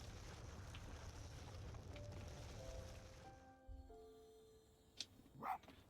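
A dog barks twice in a video game, short sharp yelps near the end that follow a few steady electronic tones over a breathy, wind-like background hiss.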